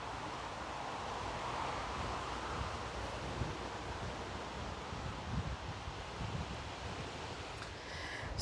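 Steady wind blows across the microphone outdoors in Glastonbury, England, a continuous low rushing roar with slight gusts and no voices.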